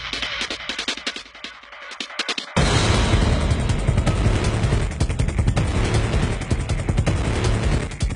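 Gunfire from an Israeli Corner Shot gun: scattered sharp reports give way to a loud, dense, sustained barrage of shots and booms that fills the rest of the clip, with no speech.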